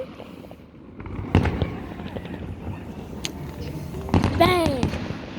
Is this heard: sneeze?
no